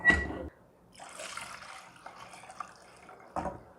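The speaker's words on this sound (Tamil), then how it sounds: "இது தேங்காய் பால் ஒரு 1/2 லிட்டர் கிட்ட விட்டுருக்கேன்" Coconut milk, second and third pressings, pours into dissolved jaggery for payasam, a quiet trickling, splashing stream that runs for a few seconds between brief louder knocks at the start and end.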